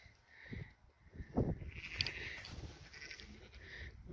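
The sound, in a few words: sheep bleating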